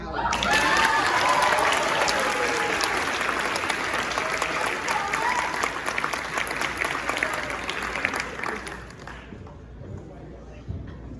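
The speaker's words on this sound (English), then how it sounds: "So a huge round of applause for Alec." A sports banquet crowd applauds Alec, a full round of clapping with some cheering that holds strong for several seconds, then fades out and leaves quieter room noise.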